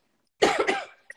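A single short cough, close and fairly quiet, followed by a faint breath, with no talking around it.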